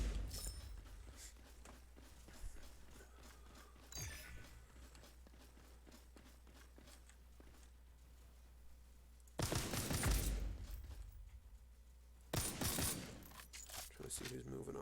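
Gunfire in the sci-fi shooter Earth From Another Sun, mostly faint distant game noise and clicks, then two loud bursts of shots near the end.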